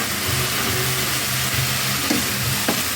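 Boiled chicken, pre-seasoned with turmeric, salt and light spices, is added to a frying pan and sizzles steadily at close range, with a constant hiss and a few brief clatters. No one speaks.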